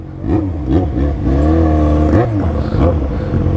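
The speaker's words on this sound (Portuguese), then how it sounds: "do motoca que tá bem barulhento também, tá com o escapão estralado" A motorcycle with a loud modified exhaust revs up and down in several sharp bursts, a deep rumbling exhaust roaring close by.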